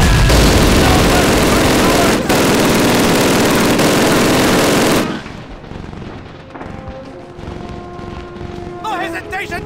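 Sustained, loud gunfire and artillery-like booms roar continuously in a Call of Duty 1 battle for the first five seconds, then drop to a quieter scene with scattered shots, engine drone and distant voices.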